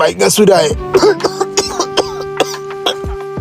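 A few harsh coughs and throat-clearing bursts close by, mixed with a person's voice in short broken sounds.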